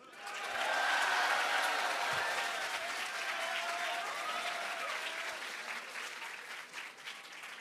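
A crowd applauds steadily for several seconds at a high school student council election, broad clapping that swells early and then holds at a slightly lower level until the end.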